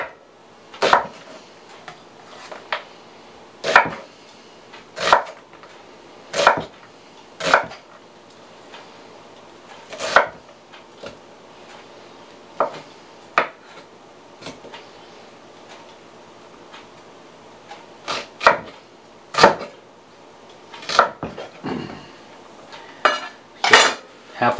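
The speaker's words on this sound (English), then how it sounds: "So I'm going to take this onion, cut it down the middle" A knife cuts a white onion down the middle and slices it on a cutting board, making a long run of sharp, separate thunks and knocks, close and fairly loud, some quick pairs, with quiet gaps between, no voice.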